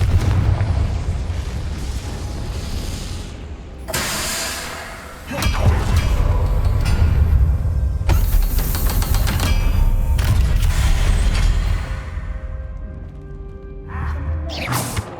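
Confringo blasting spell explosions in Hogwarts Legacy, several loud booming bursts with crackling debris, a big blast followed by sustained rumbling and then a further smaller eruption.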